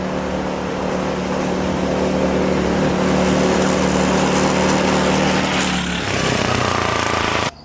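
A vintage 6-horsepower go-kart engine runs flat out at top speed, a steady, buzzing, high-revving drone held at a constant pitch, which drops off near the end before cutting out.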